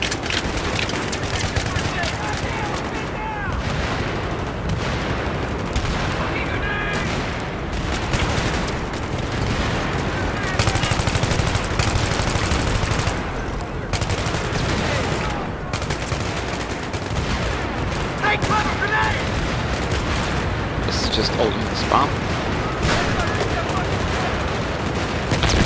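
Grenade and rocket explosions crash through a Battlefield 3 battle alongside dense gunfire, a continuous loud barrage of blasts and shots with voices mixed in.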